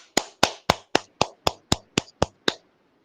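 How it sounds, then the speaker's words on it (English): A single person claps hands about ten times in a steady, evenly spaced rhythm, each clap sharp and close, with no talking. "Let me also clap for Nweze."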